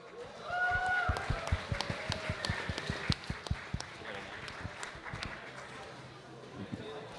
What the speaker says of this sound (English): Can we have a big round of applause for Gizmo?